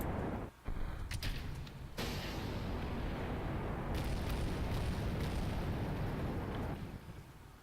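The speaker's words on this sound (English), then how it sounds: "Full throttle. Hit the rockets. Drop the launch clamps." Rocket engines firing at launch in Kerbal Space Program, a few brief bursts and then a loud, continuous roaring rumble that holds steady before easing off near the end.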